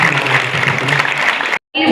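A college audience at a cultural celebration claps loudly, dense sustained applause that stops abruptly near the end before a brief burst resumes.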